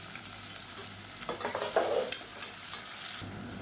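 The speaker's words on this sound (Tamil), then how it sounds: "இப்போ பாருங்கள் வெங்காயம் பூண்டு நல்லா வதங்கிருச்சு" Onions, garlic cloves and curry leaves sautéing in a pan for Tamil kuzhambu, a quiet sizzle broken by several scraping stirs in the middle.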